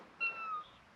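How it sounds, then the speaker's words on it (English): A house cat on a cluttered hoarder's farm gives a single short, fairly faint meow alone, with a soft tonal rise and a quick fade. "Oh, that's the cat."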